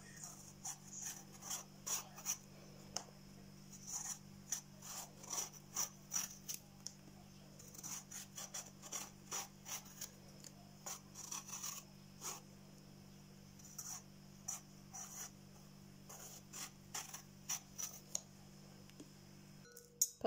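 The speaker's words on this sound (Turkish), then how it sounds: "Patlıcanlarımı bu şekilde beyaz bir şekilde soydum." Eggplants are peeled by hand with a blade, giving repeated faint scraping strokes in an uneven rhythm over a low steady hum, with a voice briefly heard.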